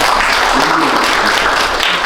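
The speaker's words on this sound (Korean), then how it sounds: "박수로 다시" Applause from a lecture audience in a hall, dense steady clapping heard close and continuous throughout the short stretch.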